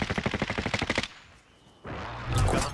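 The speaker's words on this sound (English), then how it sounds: "The Kingpin was shooting you from the roof." Rapid automatic gunfire from a video game rattles in a fast burst, then breaks off briefly before another loud blast of shooting.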